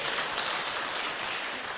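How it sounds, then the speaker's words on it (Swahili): Audience applause at a Kenyan government event, a dense, steady clapping from a crowd that fills the whole stretch without letting up. "Pigeni makofi tafadhali."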